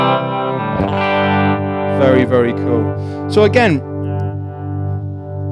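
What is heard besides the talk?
Moog Minifooger pedal pseudo univibe modulation tone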